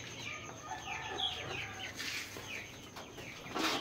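Village chickens in a cramped backyard breeding coop, with scattered clucks and chirping calls running continuously at moderate level, a few louder calls near the end, and no speech.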